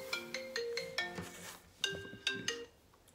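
A phone ringtone plays for an incoming call, a bright, chiming melodic pattern of plucked tones in two short phrases, clear and close with no voices.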